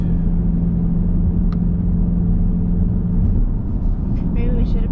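A 2021 Dodge Durango R/T with an 8-speed automatic, engine rumbling low and steady as it accelerates, a constant deep drone filling the cabin from start to finish, with faint brief ticks and clatter over it.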